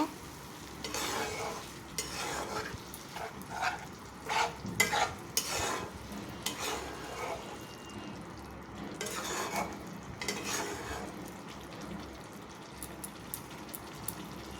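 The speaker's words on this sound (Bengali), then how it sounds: "এবারে আমি জল দিয়ে মশলাটাকে আরও একটু ভালো করে কষিয়ে নেব।" Spice paste with added water cooks down in a pan for a mustard-fennel fish curry, soft sizzling beneath repeated scraping strokes of a spoon, quiet and close.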